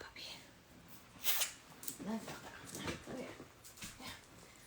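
A puppy whimpers and yips in soft, high, broken cries, faint and intermittent over quiet room noise, with a low voice murmuring nearby.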